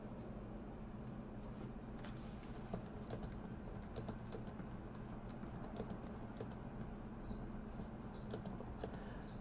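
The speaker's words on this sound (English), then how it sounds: "All right, so I'm typing right now" Quiet, continuous keyboard typing with irregular clicks of keys over a low steady background hum.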